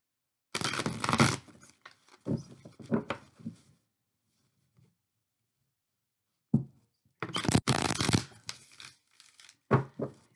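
Thick tarot cards being shuffled, with two dense bursts of riffling and crisp card flutter separated by a quiet pause, close and fairly loud with no talk.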